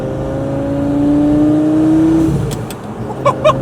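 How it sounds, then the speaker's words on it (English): A cheap Lamborghini engine revs up under a light touch of throttle, a rising whirring tone that swells and fades over a couple of seconds, followed by a few sharp clicks and knocks. "It really revs up a lot when you give it just the slightest bit of throttle"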